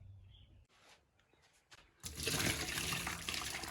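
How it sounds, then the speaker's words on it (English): Hot water poured out of a bowl in a kitchen, a few faint drips and trickles before a loud continuous splashing gush into a sink that runs steadily to the end. "Next, you're going to want to just pour out all the hot water."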